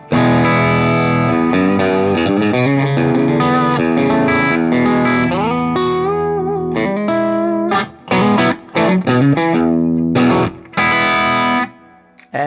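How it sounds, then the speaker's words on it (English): A PRS electric guitar on its bridge pickup with light gain plays lightly driven chords and single notes, loud and close, then breaks into short choppy stabs separated by silences toward the end. "Same thing, the bridge pickup with just a light gain."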